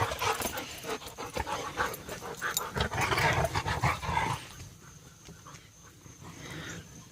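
Dogs pant close by in quick, irregular breaths, with a brief soft whimper or growl, loudest in the first half before settling into quieter panting outdoors.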